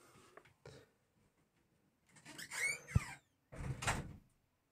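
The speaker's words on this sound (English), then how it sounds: "sorry, just went to close the door." A door is shut indoors, with soft shuffling movements and a rising scrape followed by a sharp thud as it closes, then a further rustling burst, all fairly quiet with no speech.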